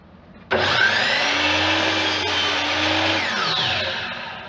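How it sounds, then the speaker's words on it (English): A mitre saw spins up loudly and steadily as its blade is brought down through a 45-degree angle cut, holding a strong whine for about three seconds before winding down. "I squeeze the trigger, the blade starts turning. I'm just going to bring it down and chop that off."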